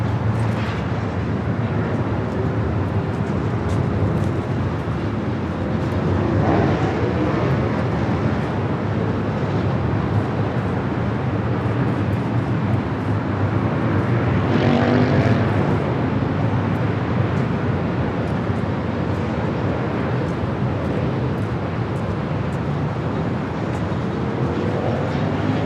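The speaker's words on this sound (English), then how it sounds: "Right up next, United Dreamliner coming from London Heathrow." A United Boeing 787 Dreamliner from London Heathrow lands at LAX on runway 24 right, its broad jet roar steady and fairly loud from start to finish with faint swells along the way.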